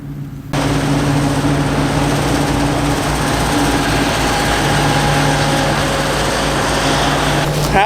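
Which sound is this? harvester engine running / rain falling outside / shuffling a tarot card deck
harvester engine running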